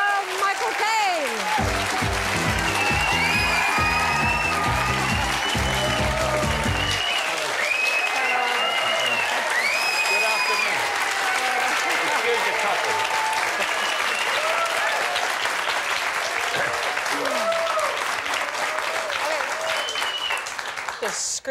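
A studio audience breaks into sustained, warm applause and cheering to welcome Michael Caine onto a television talk show. It is loud and steady throughout, with a host's voice briefly heard over it early on.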